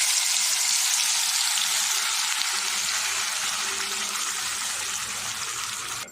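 Onion, ginger and garlic paste sautés in hot oil over medium flame, a loud continuous sizzle with light stirring that gradually eases toward the end.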